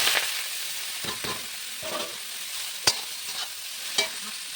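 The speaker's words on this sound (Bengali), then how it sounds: "এবার মূলোর শাকটা আমি ভেজে নেব।" Chopped radish greens fry in hot oil with black cumin, sizzling steadily while a utensil stirs them, with a few sharper scrapes and clacks against the pan standing out.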